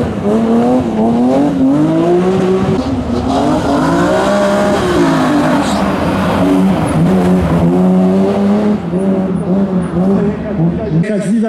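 A BMW M3 rally car engine roars and revs hard as it accelerates on the Karowa stage of the 2021 Barbórka Rally, with a Polish commentator talking loudly over it throughout.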